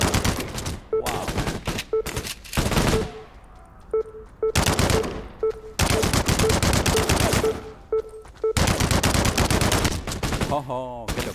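A new weapon fires in the Code of War video game in long rapid automatic bursts separated by short pauses, loud and close, with faint game tones between volleys.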